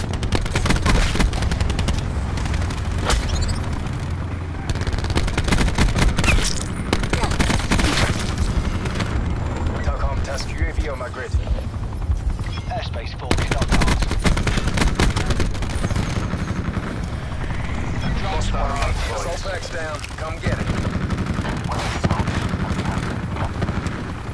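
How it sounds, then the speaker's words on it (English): Helicopter and gunfire in a combat video game: dense, continuous bursts of automatic fire and booming shots for over twenty seconds, loud and close, with brief lulls between volleys. "Chopper in the sky, get that shit out of the sky."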